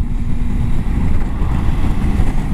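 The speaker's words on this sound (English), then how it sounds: "So this is the first proper little test ride I've had of this bike," Steady, close rumble of a Triumph Tiger 800 XCA motorcycle on a test ride, heavy low engine drone mixed with constant wind buffeting on the microphone, with no talk.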